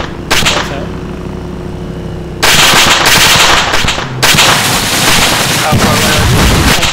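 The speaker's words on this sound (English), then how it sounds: "Someone fucking shooting at me, I think it might be a heavy." Gunfire in the military shooter game Arma 3, with a rumbling engine-like drone at first, then a sudden loud burst of dense rapid shots that pauses briefly and resumes, close and harsh.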